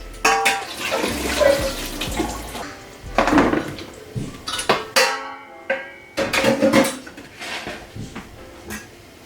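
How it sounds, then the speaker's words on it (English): Water splashes and pours in bursts as boiled potatoes are strained, with clattering of a pot and sloshing, close by and uneven, with brief quiet gaps between pours. "So here I want to strain the water from the potato."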